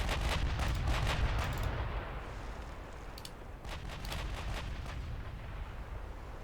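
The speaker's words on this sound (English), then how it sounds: "These the ships should now be free to fire at whoever they like." Warship guns in a naval video game fire in a rapid volley of booming, crackling shots, thinning out and then resuming at a moderate distance with no voices.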